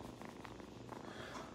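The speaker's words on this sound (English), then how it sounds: "Oh, we got purrs." Cat purring close up: a soft, continuous low rumble with gentle rhythmic pulses, quiet and steady with no other sounds over it.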